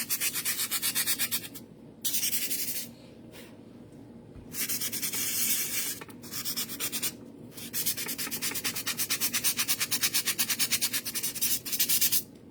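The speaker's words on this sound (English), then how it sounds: "Sometimes you can just sand it off." Sandpaper rubbed back and forth over a painted fairy house, a close rhythmic rasping in repeated bursts with short pauses between strokes.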